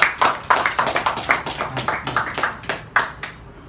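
Audience clapping at a film shoot launch event in a studio, a scattered, uneven patter of hands that swells in loose bursts and stays moderately loud throughout, with no voices over it.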